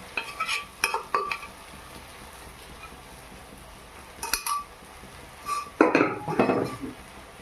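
A spoon scrapes and clinks in a cooking pot while stirring lentil dal with kulekhara greens, giving scattered metallic taps and short bursts of scraping and a faint sizzle against a quiet kitchen background.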